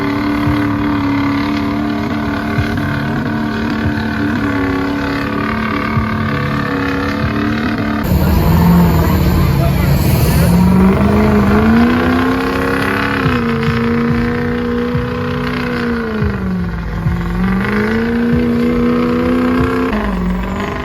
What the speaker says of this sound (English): They're doing the mega truck pulls, man, it's getting buck wild.